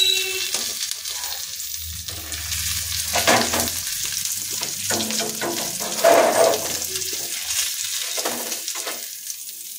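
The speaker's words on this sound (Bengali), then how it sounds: "এইভাবে মাছের অপর দিকগুলোকে আরও 5 মিনিট ভেজে নেব।" Fish pieces fry on a tawa in a home kitchen, a loud, continuous close sizzle that swells and fades, with occasional scraping and stirring sounds and no talking.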